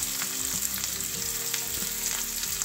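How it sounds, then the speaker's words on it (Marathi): Finely chopped garlic and onion fry in hot oil for a matki chaat. The sizzle is dense and constant and sounds close, with faint stirring underneath and no voices. "3 ते 4 पाकळ्या लसणाच्या मी इथे बारीक कट करून घेतलेल्या आहेत, त्या आपल्याला तेलात घालायच्या आहे"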